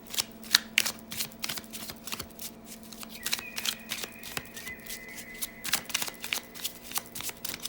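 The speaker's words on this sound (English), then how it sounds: "I'm just going to shuffle up and we'll see what cards want to pop out" Sun and Moon Tarot cards are shuffled close up in quick, crisp riffles and soft flicks, a faint, irregular run of papery bursts with short pauses between.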